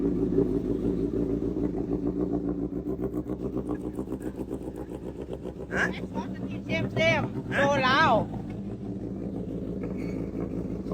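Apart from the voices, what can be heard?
Honda CBR1000RR motorcycle engine revving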